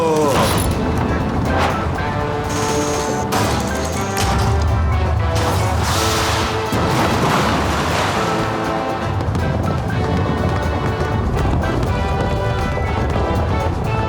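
Warship guns fire in an animated World War II battleship scene, with loud booming blasts and crashing explosions layered over a dense orchestral score and excited voices.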